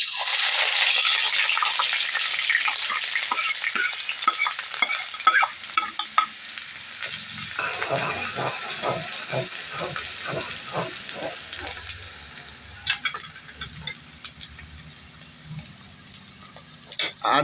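Finely chopped medium onions hit hot oil in a pan with a loud, steady sizzle and hiss, softening over time while stirring scrapes and clinks run through it, with a brief voice near the end.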